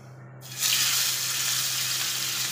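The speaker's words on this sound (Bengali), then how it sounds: "আমি এখন মাছটা ভাজিয়ে নেব।" Pangasius fish pieces drop into hot oil and break into a loud, steady sizzle that starts abruptly and keeps going as a dense hiss, with no voices.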